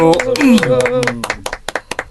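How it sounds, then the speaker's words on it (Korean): After a voice finishes speaking, a small studio audience on a political talk show welcomes a guest with a few sharp, separate claps that grow sparser toward the end. "박수로 맞이합시다."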